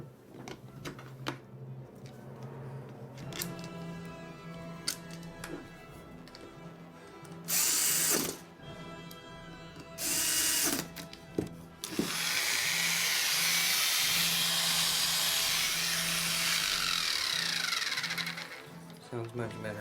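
A Wahl Lister Stablemate electric livestock clipper, running without a blade after repair, buzzes in bursts, its motor whine rising loud and bright for several seconds, with short pauses and some handling noise between runs.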